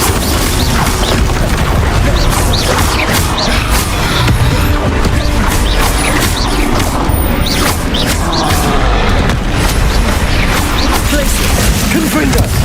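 Repeated Confringo spell blasts exploding during a hectic battle in the video game Hogwarts Legacy, a continuous loud barrage of booms, crashes and impact thwacks, with occasional voices beneath.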